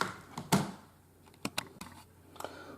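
Quiet, sparse typing on a wireless keyboard, a few soft scattered key clicks with gaps between them, close by in a calm room.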